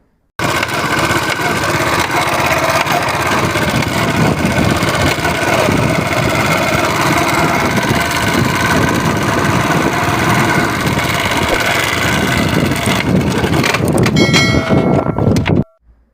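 Car engine idling with a noisy timing chain, a continuous loud mechanical rattle and hum held steady close by for about fifteen seconds before cutting off abruptly.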